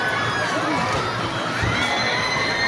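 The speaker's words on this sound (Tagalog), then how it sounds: "Ayan, sigawan sila doon." A large holiday crowd shouting and cheering at a lakeshore park in Mexico, Pampanga, with children's voices in the mix: a steady, dense roar of many voices heard at a moderate distance, continuous throughout.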